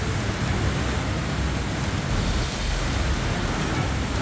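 A dense, unbroken roar of water rushes through the six curved gates of Koyna dam in Satara, loud and constant like heavy surf.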